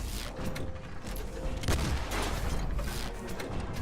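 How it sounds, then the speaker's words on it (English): Shot cannon firing in the steampunk mech game Ironcast, heard as a dense burst of booming gunfire spread across a few seconds amid steady mechanical battle noise, with no voices. "so I'm going to attack him with a shot cannon."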